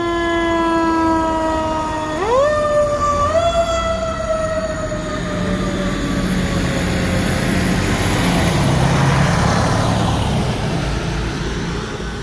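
Fire trucks from Montreal Fire Station 20 in Old Montreal pull out with a wailing siren whose pitch sweeps up in steps, loud and close, while a heavy engine rumbles underneath and slowly fades away.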